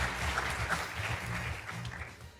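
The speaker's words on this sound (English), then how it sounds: "Let's give them a round of applause." Audience applause at a startup pitch competition session, a steady wash of many hands clapping that holds for the whole stretch at moderate level with no talk over it.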